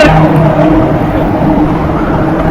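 A motor vehicle rolls past close by on a highway, heard from a bicycle: a steady, loud engine and tyre roar that fades slightly.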